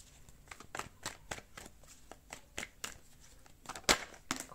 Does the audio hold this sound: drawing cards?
yes